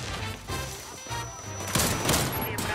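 Benelli M4 Custom shotgun firing in the online shooter Warface, loud repeated blasts in quick succession amid dense game sound.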